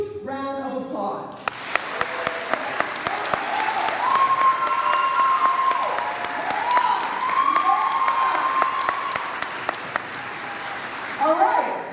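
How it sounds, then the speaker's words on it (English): Loud, sustained audience applause at a Title IX 50th celebration honoring Framingham Athletics, dense clapping with cheers and whoops rising after a brief voice, continuing steadily and fading near the end. "giving them a huge round of applause"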